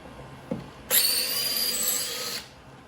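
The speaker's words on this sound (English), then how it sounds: "I'm just going to take my drill driver" A faint click, then a close cordless drill driver whirs steadily for about a second and a half, backing out a Jeep Wrangler JK taillight screw, before stopping.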